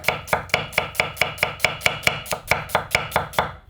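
A knife slices thinly through a new-season onion on a cutting board, producing about sixteen crisp, evenly spaced chops in a steady, fast rhythm, close and loud with no talking.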